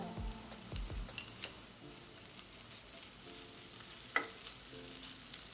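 Onion with ginger-garlic paste frying on a medium flame for gobi curry, a quiet continuous sizzle broken by scattered spoon clicks and scrapes against the pan, with no voices.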